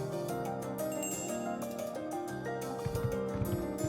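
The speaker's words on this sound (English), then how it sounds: "Ground begins to shake, accompanied by the ringing of bells." Bells ring in the NIKKE video game, bright layered tones sustained over music, with lower rumbling hits joining toward the end.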